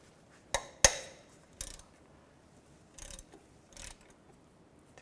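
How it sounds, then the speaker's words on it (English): A 13mm socket on a ratchet works a bolt loose from a bracket on a 2011-2014 Chrysler 200 during oil pan replacement, giving several sharp close clicks and short ratcheting bursts separated by quiet pauses. "I'm going to use a 13mm socket and a ratchet."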